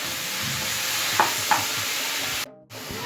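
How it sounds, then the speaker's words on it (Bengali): Spinach stir-fries in oil in a wok. A steady close sizzle carries a couple of sharp utensil taps, then a brief dip in sound near the end. "এবার দিয়ে দেবো তার মধ্যে পালং শাকটা। পালং শাকটার মধ্যে সামান্য নুন দিয়ে 2 থেকে 3 মিনিট একটু কড়াই নেড়ে নেব।"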